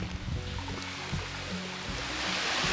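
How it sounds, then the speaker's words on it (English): Waterfalls rush with a steady broadband roar of falling water on a forest trail in Bankhead National Forest, continuous and moderately close. "I hear more waterfalls behind me"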